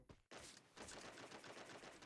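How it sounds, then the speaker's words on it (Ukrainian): Rapid gunfire bursts from the mobile battle-royale game Free Fire MAX, a short shot, a brief pause, then sustained loud automatic fire filling the rest of the moment. "Хай собі стріляються."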